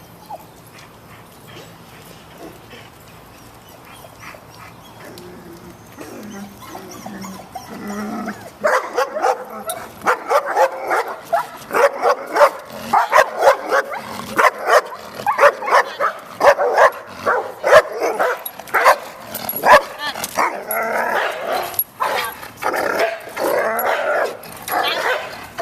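Several dogs, including Herc and Penny, bark, yip and growl in a loud, rapid, irregular burst that starts after a quiet opening and keeps going, with faint talk underneath.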